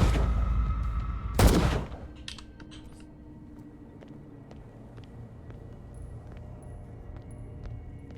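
A single loud blast from a gun in the Call of Cthulhu video game, followed by a quiet stretch with faint clicks and a low hum.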